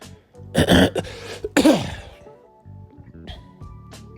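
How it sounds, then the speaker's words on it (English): A person coughing hard two times in close, harsh bursts, followed by quieter throat sounds and breathing. "that cough is severely, bad."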